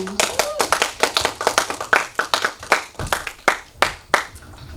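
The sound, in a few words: audience applause at a film festival award night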